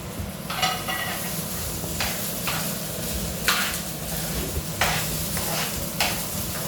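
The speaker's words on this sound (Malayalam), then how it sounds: "എന്നിട്ട് നമ്മൾ നന്നായിട്ടൊന്ന് മിക്സ് ചെയ്ത് കൊടുക്കണം" Masala rice is stirred in a hot pan with repeated scraping strokes of a spoon, heard close over a continuous frying sizzle.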